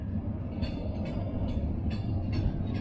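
The Kurtalan Güney Ekspresi passenger train moves slowly along the rails, a steady low rumble with faint repeating clacks heard from inside a carriage.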